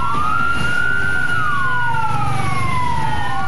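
A fire engine siren wails, sweeping up and down in long glides, loud and steady over a low rumbling background, at a burning minibus in Temanggung, Central Java, with no voices.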